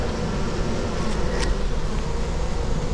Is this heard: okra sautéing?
no